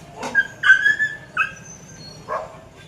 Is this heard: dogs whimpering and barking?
yes